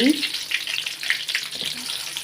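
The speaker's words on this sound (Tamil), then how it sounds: "இப்போ பாருங்கள் கத்திரிக்காயை காஞ்ச எண்ணெயில் போட்டு வணக்கி" Brinjal pieces fry in hot oil, giving a continuous crackling sizzle with brief bursts of spitting throughout the short stretch.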